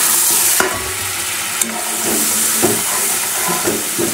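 Hog plum pieces dropped into hot oil with panch phoron spices, dry chilli and turmeric, setting off a steady close sizzle and frying hiss with a few sharp clatters of stirring against the pan.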